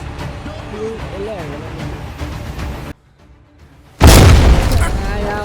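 A loud, sudden explosion bursts out in the Zero Hour tactical shooter after a brief near-silent pause, a booming broadband blast with a rumbling tail, following stretches of excited player chatter.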